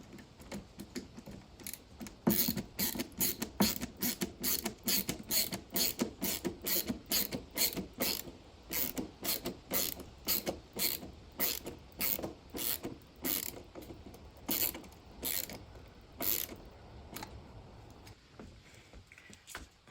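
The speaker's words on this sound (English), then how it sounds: "instead of putting nails, I'm going to try a couple of screws" Screws being driven into a wooden bookshelf, heard as a fast ratcheting, clicking mechanical rattle in rapid bursts that runs close and steady for most of the stretch before tapering off.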